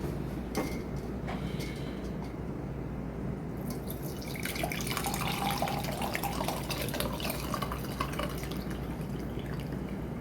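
Golden turmeric milk is poured through a strainer, a steady close stream of liquid trickling and splashing continuously with dripping throughout, no talking.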